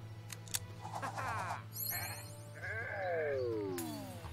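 A sheep in the video game Renowned Explorers bleats in several wavering calls, set among synthetic game effects and background music.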